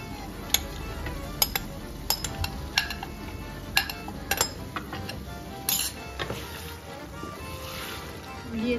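A spoon stirs chicken into chana dal in a pot, restaurant-style chicken and split-chickpea dal, giving a run of sharp metallic clinks and scrapes against the pot at an irregular pace, close and fairly clear.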